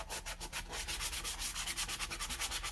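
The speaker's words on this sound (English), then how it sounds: "usually I get a pretty fine grit sanding block, like 180" A fine 180-grit sanding block rubs back and forth across a wooden farmhouse-style piece, a close, rhythmic scratching of quick even strokes repeating steadily throughout.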